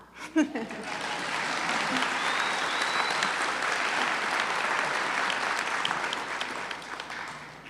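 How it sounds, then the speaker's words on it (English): A graduation ceremony audience bursts into sustained, dense applause after a brief spoken moment, filling the hall evenly and fading slightly toward the end. "you can clap"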